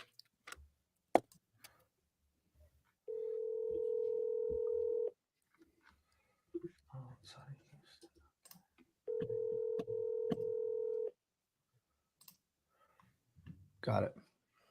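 A phone dials out to call a property seller, with sharp clicks, then two steady ringback tones of about two seconds each separated by a gap, under soft nearby talk.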